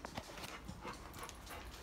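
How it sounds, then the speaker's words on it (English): A dog pants heavily and rapidly in quick repeated breaths, close by, with some faint background noise. "So now we started the heavy panting again."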